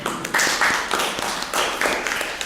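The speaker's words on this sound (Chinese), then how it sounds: "好，我们拍掌好吗？" A church meeting audience clapping their hands together, a dense run of loud, close claps in brief rhythmic bursts that swell and ease over a few seconds.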